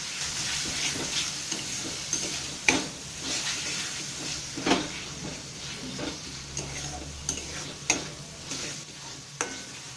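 Cumin powder, coriander powder and chopped tomato sautéed in a pan for mutton keema curry: a constant soft sizzle broken by regular stirring scrapes and knocks of the spoon.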